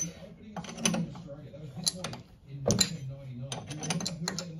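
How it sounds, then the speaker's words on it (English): Bolts being loosened on a swivel pedestal, with intermittent metallic clicks, ratcheting and scraping in a few short bursts, close by, while someone talks. "So we'll just loosen these off. Bolts there."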